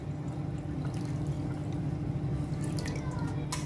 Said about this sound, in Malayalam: ഇനി 2 കപ്പ് പാലൊഴിച്ചു കൊടുക്കുന്നുണ്ട്.